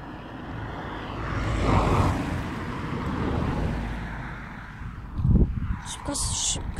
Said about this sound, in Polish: O nie, no dwa samochody jadą.